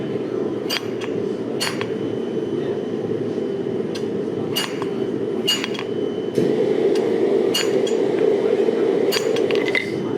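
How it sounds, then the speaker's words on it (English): A smaller hammer strikes hot metal on an anvil as a blacksmith forges decorative work, sharp ringing clinks landing in an irregular rhythm over a steady roar of forge or workshop noise, with no talking. "And I swapped to a smaller hammer because it's a little easier to control."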